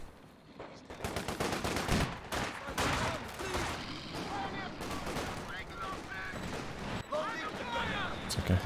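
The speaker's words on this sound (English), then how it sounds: "It's like I heard a T-gun shoot" Company of Heroes 2 battle with an anti-tank gun among gunfire bursts and explosive fusillades, dense and loud throughout, with a voice talking over the action.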